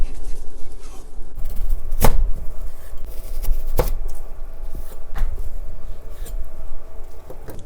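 A knife cuts through Korean fishcake on a board, with two sharp chopping knocks standing out over a busy kitchen background and a few fainter taps after them.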